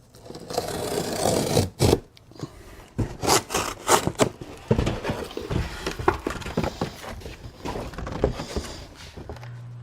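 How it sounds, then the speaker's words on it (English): A knife slices open cardboard boxes packing a SpringWell whole-house water filter and salt-free softener, giving irregular scraping and ripping strokes with short pauses, close and fairly loud, with no voices. "I'm gonna cut down the edge like this. When we get down here, we're just gonna cut along the edge."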